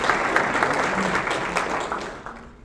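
Steady clapping from an audience, dense and fairly loud, gradually tapering off toward the end.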